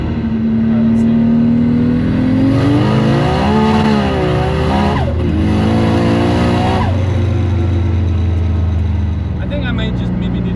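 A twin-turbo Nissan 370Z engine runs loud and close, rising and falling through revs as the car accelerates, then settles into a steady drone, with voices talking over it.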